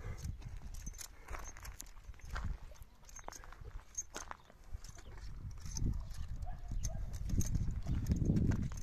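Horse hooves clip-clop at a walking pace on a farm, shown as stallions and mares, a steady close run of hoof knocks with scattered thuds and soft rustling throughout.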